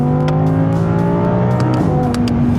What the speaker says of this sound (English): She is throatier than a standard R8